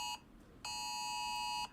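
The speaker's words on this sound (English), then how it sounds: "that's the flash flood warning" A phone's flash flood warning alert sounds as harsh, buzzing tone bursts, one short blast followed by a longer one, steady and moderately loud with no talking.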